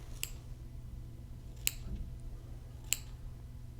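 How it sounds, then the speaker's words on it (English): Three sharp, quiet snips of scissors spaced apart over a faint low background hum. "I just love the sound of the scissors clipping and cutting."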